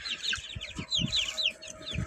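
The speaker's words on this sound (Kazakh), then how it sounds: "Балапандарды сыртқа шығарып жатырмыз. Мыналар чисто бізде күрік тауықтан шыққан балапандар бәрі." Küryk breed chicks and hens being let outside: many chicks peep in rapid high chirps throughout, mixed with low hen clucks at a steady pulse, fairly close and moderately loud.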